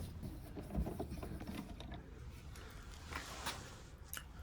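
Screws being backed out of the lid of an AEG Electrolux condenser dryer, heard as a faint, steady mechanical creaking and ratcheting up close for several seconds with no talk.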